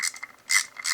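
Hardware on a motorcycle stator cover is snugged down with a ratchet, giving a short run of close, quick clicks, with no voices.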